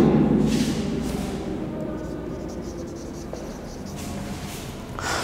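Pen writing notes during a ninth-grade biology lesson on muscle tissue, a steady scratchy scribble close by that carries on throughout.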